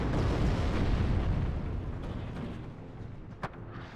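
Artillery fire in the strategy game WARNO, a heavy rumbling blast that slowly decays, followed by a sharp crack near the end, with no talk.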